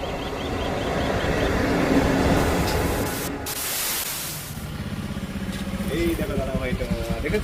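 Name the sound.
train arriving at platform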